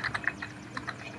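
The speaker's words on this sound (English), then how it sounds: "a lot of time you're just typing" Keys clack in quick bursts on a computer keyboard during an Unturned gaming session, several sharp close taps with short pauses over steady low room noise.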